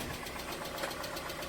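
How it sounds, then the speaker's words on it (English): A Mazda Miata engine idles with a fast, even lifter tick, a faint, rapid mechanical ticking over a steady low engine hum, with no voices. "and that's lifter tick."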